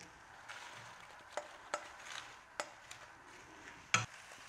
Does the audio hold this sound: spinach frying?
yes